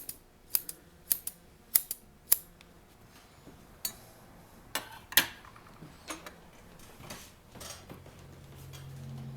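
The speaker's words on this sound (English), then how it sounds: "now we're going to cut the threads" Scissors snipping serger threads on a Juki MO-6716S, a series of sharp, close clicks in quick bursts early on, then sparser snips and faint handling noise in a quiet room.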